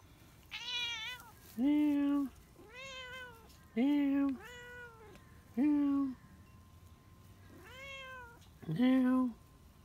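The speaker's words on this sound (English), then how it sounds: "Meow. Meow. Meow. Meow." A cat meows repeatedly, about eight close, clear calls in an uneven rhythm, some long and drawn out, with quieter background sound between them.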